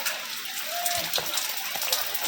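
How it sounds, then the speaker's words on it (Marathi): Steady rushing water of a waterfall-like stream at Korigad Fort, Lonavala, in the monsoon, fills the scene, a constant bright hiss of flow with no pauses, fairly loud and close. "धबधब्यासारखं पाणी वाहत आहे"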